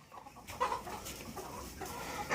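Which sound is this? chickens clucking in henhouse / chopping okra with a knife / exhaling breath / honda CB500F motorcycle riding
chickens clucking in henhouse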